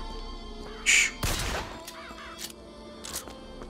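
A few sharp crow caws ring out over quiet background noise in the video game Bioshock Infinite Remastered, with a sudden crashing burst between them.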